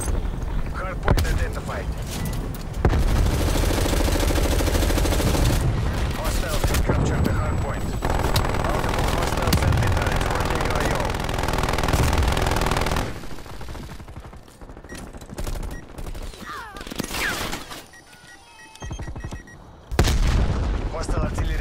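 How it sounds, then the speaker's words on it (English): Artillery strikes in Call of Duty Black Ops Cold War, a sustained loud barrage of booming blasts and gunfire that rolls on for seconds, eases, then erupts again near the end. "Hostile artillery targeting active. Artillery inbound."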